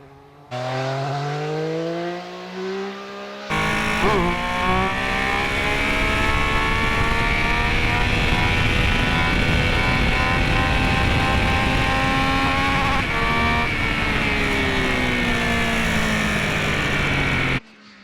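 A Triumph Speed Triple 1200 RS motorcycle on track at Donington Park: a quieter engine note jumps into a loud, sustained roar that rises and falls in pitch as the bike pulls through the gears.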